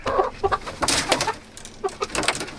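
A flock of backyard chickens clucks and squawks busily inside their coop, with many overlapping calls and chatters that are fairly close and lively.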